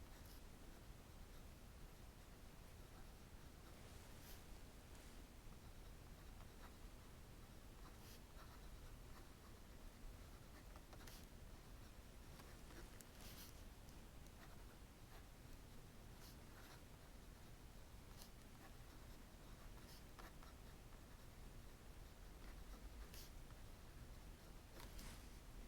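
Jinhao X159 fountain pen nib scratching steadily across paper, a faint, continuous close-up rustle with small ticks where strokes begin and end, sustained for about twenty-five seconds with no voices.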